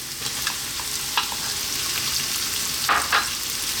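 Onion, garlic and ginger fry together for mushroom fried rice, a dense continuous sizzle close up, with a few soft scrapes of stirring and a louder scraping stroke near the end, no talking.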